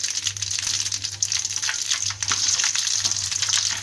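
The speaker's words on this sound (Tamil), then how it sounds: "கடுகு பொரியலே, வெந்தயம் போட்டுக்கலாம்." Mustard seeds and fenugreek sizzle and crackle in hot oil for a stingray curry, a steady close frying hiss with small popping bursts throughout and no talk.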